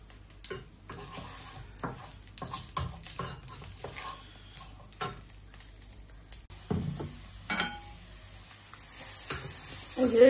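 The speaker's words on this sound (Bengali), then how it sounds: "দিয়ে দিছি তেল, দিয়ে দিলাম তেজপাতা, দিয়ে দিলাম জিরা" Bay leaves and cumin seeds sizzle in hot oil in a pan, a steady crackle broken by scattered clinks and scrapes of a utensil, growing louder and busier near the end.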